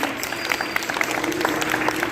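Loud applause at a convention, a dense, steady crowd clapping that carries on throughout without a break.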